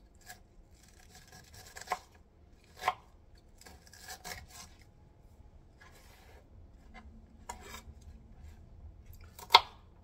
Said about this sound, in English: I'm gonna cross cut them to make them bite-sized, so it's not stringy.